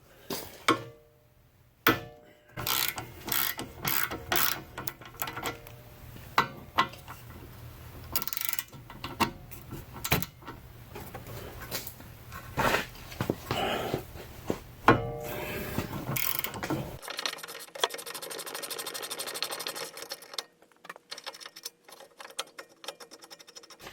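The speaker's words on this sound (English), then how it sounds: "you may need a 1/2-inch drive or an extended ratchet or something to get those off" Ratchet loosening tight 17mm brake caliper bracket bolts on a 2001-2005 Honda Civic front brake, a run of sharp mechanical clicks and knocks close by, followed by quieter rustling and handling noise.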